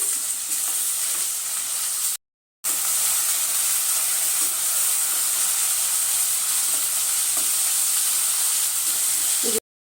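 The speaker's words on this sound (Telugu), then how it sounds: "ఇది పచ్చివాసన పోయేదాకా వేయించుకోవాలి" Onion paste fries in a pan with a loud, continuous sizzle and hiss that fills the scene, broken by one brief cut to silence, with faint stirring underneath.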